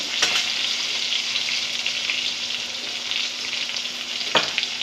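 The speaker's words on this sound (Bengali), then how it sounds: "একদিকে পটল ভাজছি" Pointed gourd (potol) fries in a pan with a steady, dense sizzle and crackle heard close up, and a couple of sharp utensil taps stand out above the constant frying hiss.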